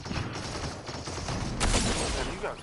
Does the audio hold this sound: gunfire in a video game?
yes